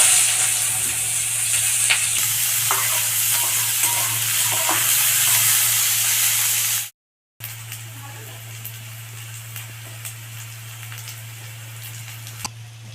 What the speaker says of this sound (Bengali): আলু ভাজার তেলের মধ্যে আমি পেঁয়াজটাকে ভেজে নেব।